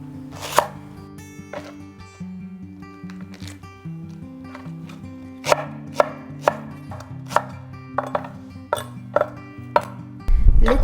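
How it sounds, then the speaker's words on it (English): Giant green onion sliced with a knife on a board, a run of sharp chopping thuds at uneven intervals over a faint steady hum, ending in a louder clatter. "Cut the giant green onion into slices."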